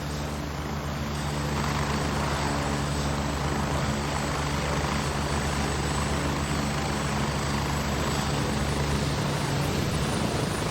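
A helicopter arrives in the video game Grey Zone Warfare, its rotor and engine droning loud and steady throughout with a layered tonal hum, and the lowest drone dropping away near the end.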